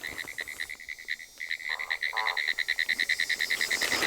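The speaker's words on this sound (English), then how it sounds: "This frog will forever be Bob K." A frog in Florida, just marked by a biologist, croaks in a fast pulsing series close by, the calls quickening into a steady rapid rhythm with no voices.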